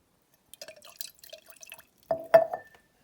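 A Range Rover Sport L320 AC knob is dropped into cleaning liquid and swirled, giving soft wet splashes and drips, then a louder sloshing burst near the end, close and with no talking.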